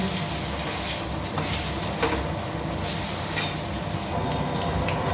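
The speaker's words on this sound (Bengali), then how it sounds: "একটা বেগুন ভেজে নেবো" Four pieces of eggplant fry in hot oil in a home kitchen, giving a steady, dense sizzle throughout with a few brief crackles and pops, close and continuous with no talking.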